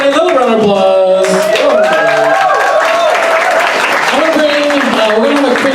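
Audience applause at a comedy show fills the room, loud and steady for several seconds, with voices and music-like tones running over it.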